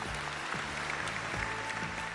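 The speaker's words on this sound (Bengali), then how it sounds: "জোরে একটা হাততালি হয়ে যাক।" A Bengali TV family game show studio audience applauds, a steady wash of clapping hands throughout, with a few low voices faintly underneath.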